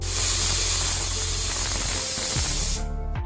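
Steam hisses hard and loud from a pressure cooker cooking green gram curry, a steady close rush that cuts off abruptly near the end, leaving brief quieter kitchen clatter.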